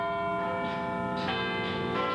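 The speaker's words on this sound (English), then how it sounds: "it's feared Big Ben's bongs could deafen the workers" Big Ben, the great bell in London's clock tower, rings out with a loud, deep, sustained tone that hums and decays across the whole clip, with a fresh strike partway through.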